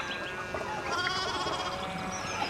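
Sheep bleat in the medieval game Pentiment, several overlapping wavering calls close by, steady and moderately loud with no talk.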